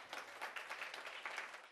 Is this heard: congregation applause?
yes